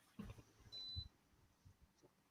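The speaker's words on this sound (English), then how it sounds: "anybody else just hear that beep?" A single faint electronic beep from an ankle monitor bracelet: a thin, high steady tone lasting about a third of a second, rising over quiet room noise with soft low thumps around it.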